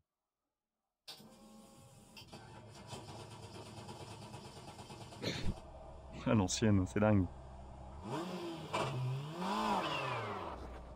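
A Vauxhall BTCC touring car from the 1990s in rFactor 2 at Donington cranks over, then catches and blips its engine in a few sharp revs before settling into a rough idle, with someone talking over it.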